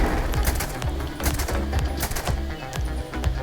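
The silenced Despondent Assassin weapon fires in the Starfield video game, a rapid irregular volley of muffled, punchy shots over dense game noise, continuous and close.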